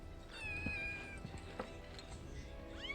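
A cat in Final Fantasy VII Rebirth gives several thin, wavering meows over a low steady game ambience, fairly quiet and without talk.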